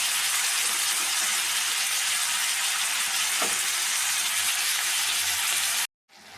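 Green chillies and vegetables (cucumber, tomato, with turmeric and salt) frying in a pan, a loud, dense, unbroken sizzle that holds steady before cutting off abruptly near the end.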